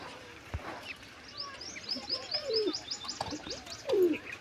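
Pigeons in a loft coo softly and repeatedly, with a few short chirps mixed in, close by and fairly faint against a quiet background.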